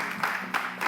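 A crowd claps to welcome a jury member at a slam poetry evening, a short, fairly faint burst of mixed clapping.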